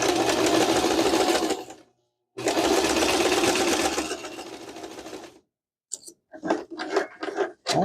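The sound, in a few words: sewing machine stitching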